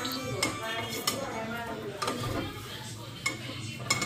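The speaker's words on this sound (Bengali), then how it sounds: "এখানে কড়াই একটা বসাই দিলাম" A metal wok set down on a gas stove in a home kitchen, giving a few sharp clanks and scrapes against a faint background hum, fairly close and fairly quiet.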